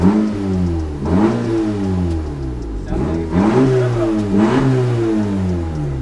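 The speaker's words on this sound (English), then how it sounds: "we're gonna start the car with no exhaust" A Honda Civic engine, running with no exhaust fitted, revs loudly and raggedly in repeated bursts, rising and falling in pitch, with a raw, unmuffled roar throughout.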